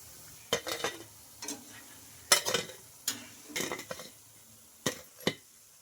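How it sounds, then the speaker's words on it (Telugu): Leftover-rice vadas turned in hot oil, with intermittent scraping and stirring clatter over a quiet background sizzle, in uneven bursts. "మంటను అడ్జస్ట్ చేసుకుంటూ అటు ఇటు తిప్పుకుంటూ బాగా ఫ్రై చేసుకోవాలి"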